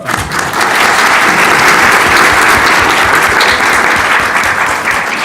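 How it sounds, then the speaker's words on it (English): Conference hall audience at CPAC 2020 in Maryland gives a loud, dense, sustained round of applause, steady for several seconds with little else heard. "But I'd like a round of applause again for your leadership."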